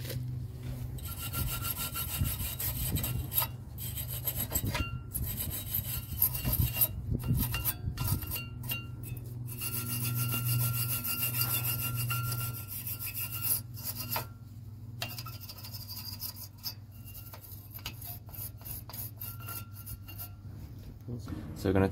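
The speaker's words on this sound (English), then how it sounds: "So next we're going to clean up this area with a wire brush. I'm just scraping it off with a screwdriver" A wire brush and screwdriver scrape around the brake caliper area of a Hyundai i10 during a brake change, giving steady close rasping strokes broken by short pauses.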